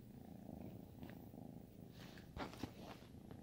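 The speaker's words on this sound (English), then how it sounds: "we're here with the kitty cat right now" A rescued house cat purring steadily and close up, a continuous low rumble with a few soft brief noises layered on top toward the end.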